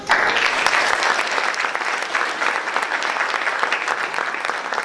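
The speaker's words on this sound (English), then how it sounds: "a quick round of applause for our outgoing board members" A luncheon audience applauds outgoing chamber of commerce board members, a full, even burst of many hands clapping at once that holds steady for several seconds.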